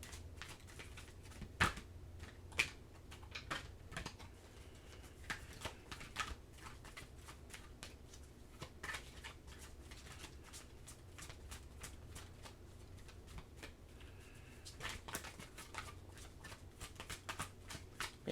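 A deck of oracle cards shuffled steadily by hand for a long stretch, soft riffling flutters and light taps close up, faint and continuous with no talking.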